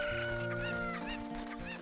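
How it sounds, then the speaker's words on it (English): Chickens cluck in The Legend of Zelda: Ocarina of Time 3D, a busy overlapping flock of clucks and squawks over a steady synthesized game music bed. "I'm collecting chickens."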